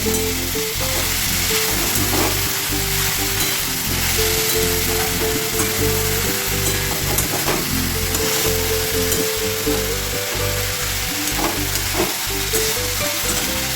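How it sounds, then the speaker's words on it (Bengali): Spring onion sautéing in a pan for chicken thukpa, along with capsicum, gives a loud, steady frying sizzle with light stirring scrapes throughout, close up and with no voices. "দিয়ে দেবো একটু স্প্রিং অনিয়ন, এটা হালকা সতে করে নেওয়া"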